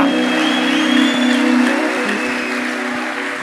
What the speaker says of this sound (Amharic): ለወንጌል ጭብጨባ አላችሁ